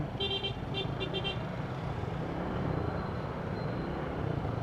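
Dense road traffic near Pavilion Mall in Biñan, a steady broad rumble of engines throughout, with a few short honking car-horn toots in the first second and a half.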